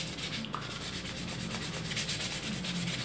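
Sandpaper rubs back and forth across a Mini Montana model piece to give it a matte finish, producing steady, rhythmic scratchy strokes up close.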